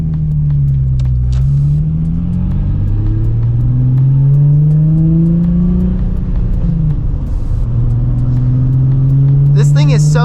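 A 2006 Nissan 350Z Rev-Up with a muffler delete revs up and down, its loud, close exhaust note rising and falling in long sweeps, with a few brief clicks near the end and no talk.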